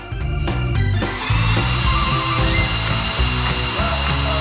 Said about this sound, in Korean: 이제 그릇에 넣어주고 드라이기를 이용해서 녹여줄 거야